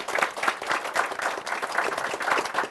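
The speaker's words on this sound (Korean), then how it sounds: "마지막으로 여러분 수고해주신 MC분들의 박수 좀 부탁드립니다" Audience applause for the MCs at the close of a Korean CEO talk event, steady dense clapping from a crowd sustained for the full few seconds at fairly close range.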